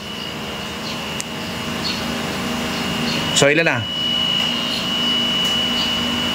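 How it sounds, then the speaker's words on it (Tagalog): Improvised vacuum pump hooked to an air-conditioner gauge manifold, running as a steady loud mechanical hum with a whistling tone, a brief surging whoosh midway, and people talking over it. "patayin yung ating improvise vacuum pump"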